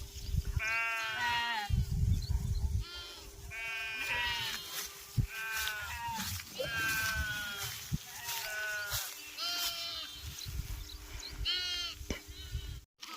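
A village flock of sheep drinking water poured out beside a borewell bleats loudly and close by, with many overlapping, wavering calls repeating throughout over a low background rumble.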